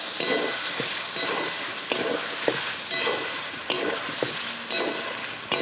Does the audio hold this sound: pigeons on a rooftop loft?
no